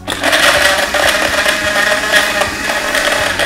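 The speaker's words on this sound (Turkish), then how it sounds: "Blender'ın gücü yetmedi o yüzden biraz azalttık" A blender whirs loudly and continuously, its motor straining with rhythmic chopping and rattling as it churns strawberries for strawberry ice cream.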